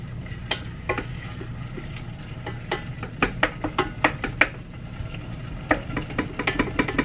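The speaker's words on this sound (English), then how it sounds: "Just concentrating on browning this meat." Ground meat browning in a pan for taco soup, with a low steady sizzle under repeated light clinks and scrapes of a utensil stirring against the pan, close and fairly quiet.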